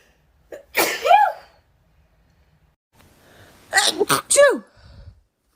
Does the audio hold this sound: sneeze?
yes